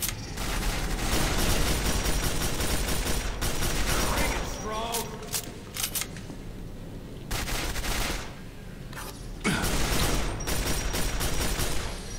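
Rapid bursts of automatic gunfire rattle through a Quake 4 firefight. Dense, loud volleys break into short pauses and then resume, with sharp single shots in between.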